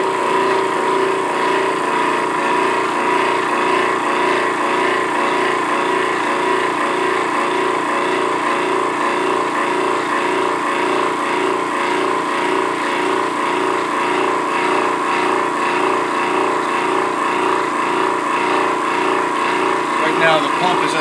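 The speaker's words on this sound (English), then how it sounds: "Now the pump is actually building pressure." Electric hydraulic pump of an Across International 40-ton press running steadily as it builds pressure, a loud continuous motor hum with an even pulsing texture, close up and unbroken.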